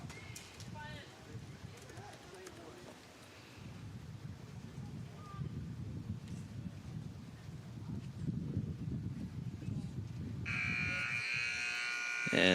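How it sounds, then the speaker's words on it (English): A halftime buzzer sounds at a women's college soccer game, a loud, sustained electronic tone near the end, following a long stretch of stadium and wind noise. "there goes the halftime buzzer right there"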